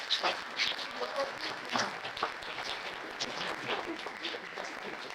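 Applause from a lecture audience honoring administration and staff, moderate clapping from a crowd with some murmuring voices mixed in, fairly soft and steady.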